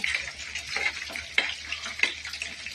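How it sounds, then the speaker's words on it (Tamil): Minced keema is stirred into a frying pan, with a near, hissing sizzle and a run of rhythmic spatula scrapes and pushes, a few sharper strokes standing out. "நம்ம ரெடி பண்ண வச்ச கைமாவை இப்போ இது மேலே போட்டு நல்லா மிக்ஸ் பண்ணிக்கோங்க"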